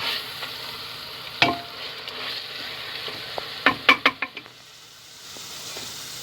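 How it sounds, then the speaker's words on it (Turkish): Tomato paste, garlic and spices being stirred in a hot pan, with a soft steady sizzle and a few sharp clinks of a spoon against the pan, close by and without talking. "salçamızı, sarımsakları ve baharatlarımızı ekliyoruz. Ve güzel karıştırıyoruz."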